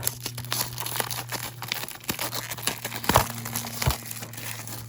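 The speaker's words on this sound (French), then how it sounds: "c'est parti pour déballer du coup le tout" Packaging for a Plaud Note Pin AI recorder is unboxed at close range, with crinkling plastic, soft tearing and a few sharper crunches and taps over a faint steady background hum.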